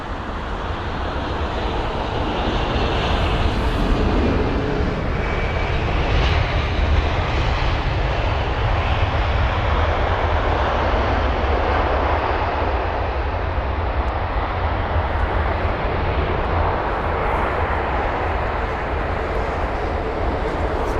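Air Serbia airliner at London Heathrow Airport, a steady broadband engine roar holding at a constant level throughout, with no voices.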